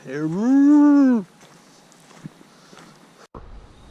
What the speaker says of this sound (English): have this cow behind this tree following me